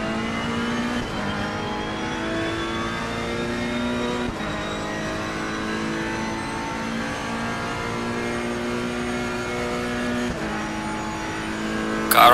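Race car engines roar steadily in Assetto Corsa Competizione at the Spa circuit, a loud continuous drone of several cars with rising and falling revs, brief gear shifts and nearby cars passing, with no talking.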